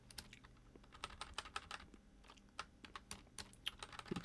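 Fast, irregular clicks of typing on a computer keyboard, close and fairly quiet, with a slight pause partway through and no speech.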